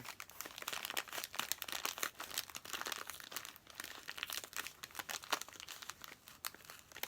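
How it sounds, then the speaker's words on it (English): Crinkly plastic wrapping on a yarn advent calendar bag is handled, opened and torn, a steady run of close crackling and ripping bursts for several seconds with no talking. "let me open this, see if I can do it without ripping the bag"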